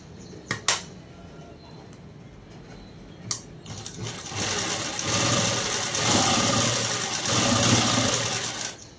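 A sewing machine stitches fabric for a prince cut dress. After a few isolated clicks, the motor whirs loudly and continuously for several seconds, close by, with no speech.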